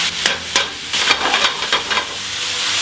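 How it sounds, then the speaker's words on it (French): Spinach fries in duck fat in a pan for a beef Wellington, with a steady broadband sizzle and hiss broken by several sharp stirring scrapes as the leaves are turned, close and fairly loud, with no voices. "graisse de canard, encore un petit fond, les épinards dans la poêle"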